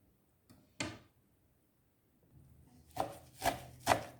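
A knife finely chops beet greens in a quiet kitchen, with one sharp chop early on, then a pause, then three more evenly spaced cuts close up.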